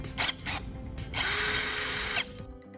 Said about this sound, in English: I chuck the carbon rod into my power drill.